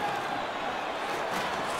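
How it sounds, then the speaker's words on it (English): Crowd noise in the ice hockey video game NHL 16, a steady wash of arena roar and cheering after a big hit, moderately loud and continuous. "that big hit's going to really excite the crowd"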